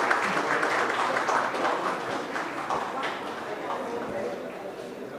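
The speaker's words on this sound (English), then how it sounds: "Can I hear a huge round of applause for the moderator," An indoor event audience applauds the session moderator at a lab inauguration, with dense, steady clapping that stays loud throughout the whole stretch and slowly thins toward the end.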